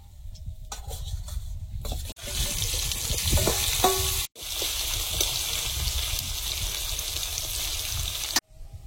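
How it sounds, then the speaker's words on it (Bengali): Small fish fry in hot oil, a steady hissing sizzle close up with brief clatters of stirring, broken by two short sharp cutoffs, and no voices. "এবার চুনো মাছগুলো ভেজে নেবো এই তেলে।"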